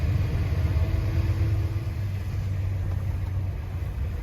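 An HGV truck engine rumbles low and steady while driving slowly through a chicane, a close, continuous drone with a faint tonal whine, alone without speech.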